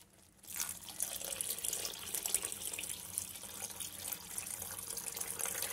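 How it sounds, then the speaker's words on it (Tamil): Tamarind water pours steadily into a pan after a quiet start, a continuous splashing rush with no voices. "அந்த புளி தண்ணியை இதல விடுறேன்"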